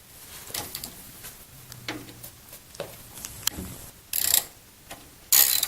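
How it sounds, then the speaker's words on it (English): A 13mm socket ratchet turns a bolt loose during crossbar removal, with scattered light clicks and ticks building to two loud, short bursts of rapid ratcheting near the end. "And you will now use a 13mm socket to remove the bolt number 44."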